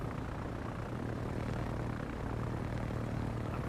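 Slow propeller planes in a video game drone steadily as a broad, even, mid-level engine hum with no voices over it.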